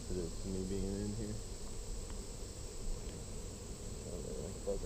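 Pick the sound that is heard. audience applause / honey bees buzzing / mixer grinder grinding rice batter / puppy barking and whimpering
honey bees buzzing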